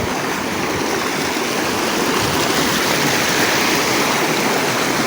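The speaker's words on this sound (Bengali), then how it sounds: "জলের অনেকটাই স্রোত।" Strong water current rushing near a rocky island, a loud, steady broadband roar of flowing, splashing water close by, continuous throughout with no talk.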